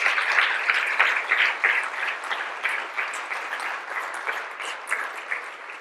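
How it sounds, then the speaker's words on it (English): A conference audience at a climate-funding summit in Vermont applauds its panelists: dense, sustained clapping from a sizeable crowd, loud and steady for the whole stretch, gradually thinning slightly toward the end, with no speech over it. "Can I have a warm round of applause for our panelists"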